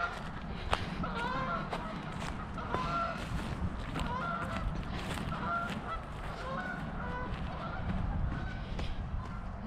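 Ducks flying overhead along a trail, giving repeated honking calls throughout, mixed with nearby footsteps and a soft outdoor background.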